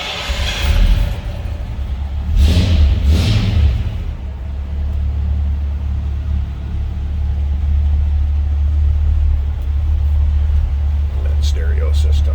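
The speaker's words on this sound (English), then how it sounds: "It's a nice running truck." A 1971 GMC 1500 Super Custom pickup engine idles with a steady low rumble throughout, and a brief swell near the start suggests a rev, with a voice speaking over it.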